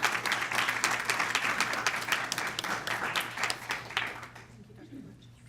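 A luncheon audience gives a big round of applause for the 2018 secondary teachers of the year: dense, sustained clapping fills the room and tapers away near the end, with a steady low hum underneath.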